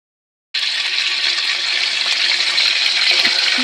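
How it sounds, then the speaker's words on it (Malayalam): Karinochi leaf juice poured into a pan of heating oil, starting abruptly as a loud, steady hissing gush that keeps up close by without pause; no voices. "കരിമച്ചിയുടെ നീര് ഇതിനകത്തോട്ട് ഒഴിച്ച്"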